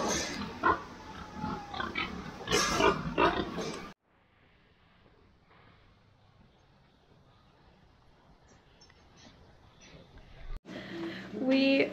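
Pigs grunt and squeal loudly and up close while they are loaded at a farm hog house, against noisy livestock handling. A quieter stretch of low rumble follows, then the animal noise returns.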